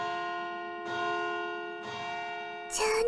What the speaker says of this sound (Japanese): 街中の時計塔の音ってここまで聞こえるんだ